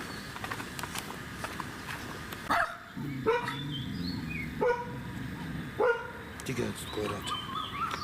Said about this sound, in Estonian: Tigedad koerad tahavad mind siia kraavi lükata.